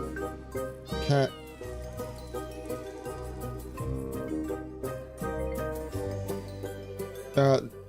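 Cat meowing in the video game Solnest, two clear meows spaced several seconds apart over soft game music.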